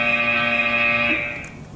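A match timer buzzer sounds from a competition field control table when the match is ended early: one steady, loud, harmonic buzz that holds for about a second and then fades out.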